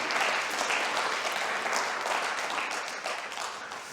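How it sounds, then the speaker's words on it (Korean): A Korean church congregation in Berlin applauds during Sunday service, a dense, steady round of many hands clapping that fills the room and fades slightly toward the end. "우리 청년들 한번 격려 박수 한번 할까요?"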